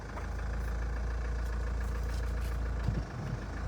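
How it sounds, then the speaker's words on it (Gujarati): A car with a fault that lights the engine warning lamp idles just after starting, with the AC running: a steady, close low hum that dips briefly near the end. "તો આપણે ગાડી સ્ટાર્ટ કરી લીધી"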